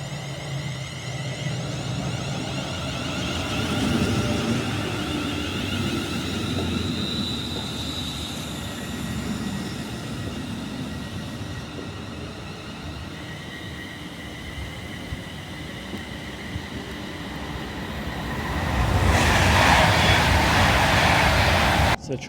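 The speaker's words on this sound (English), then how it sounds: "So the train has finally arrived," A passenger train pulls into a railway station platform on a route toward Manchester Piccadilly, its steady rumble and rising roar close by, growing louder near the end.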